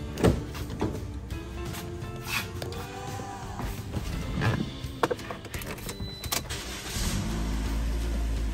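A car idles and clunks through a drive-off on a hot day, with door and mechanical knocks scattered over a low engine rumble, then a steady louder engine drone near the end.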